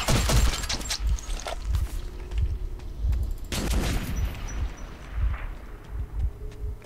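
Gunfire in the Metro 2033 video game, with repeated loud bursts of shots and sharp impacts spread across the clip, some heavy booms among them, continuing over a constant game background.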